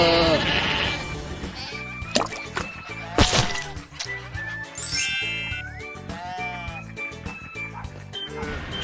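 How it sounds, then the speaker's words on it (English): Sheep bleating in a farm-animal sound sequence, several wavering bleats at close range over roughly nine seconds, mixed with chimes and other bright effects. "4 sheep."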